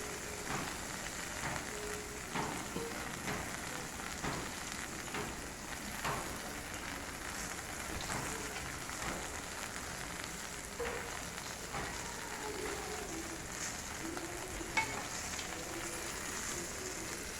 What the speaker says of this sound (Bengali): এবার আমি সর্ষে দিয়ে দেবো